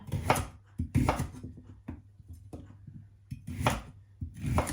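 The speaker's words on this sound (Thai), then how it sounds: "หมูธรรมดาหั่นเป็นชิ้นๆเอา" A knife chops pork into pieces on a cutting board in uneven bursts of sharp, heavy thuds, close by, with no talking.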